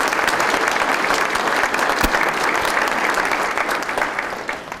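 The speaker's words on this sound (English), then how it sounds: "Please give them a round of applause." Sustained, even applause from the audience at a 2016 State of the City address in Elyria, honoring the police chief and city employees, dense clapping that continues throughout and eases slightly at the end.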